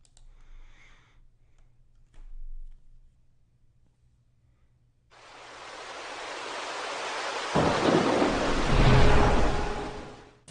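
Heavy rain in a thunderstorm over southeastern Illinois during flooding: a dense roar of rainfall swells in after quiet moments and grows louder, with a deep rumble joining near the end.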